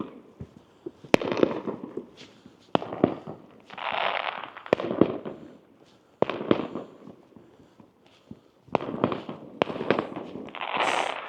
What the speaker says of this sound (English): And more fireworks going off.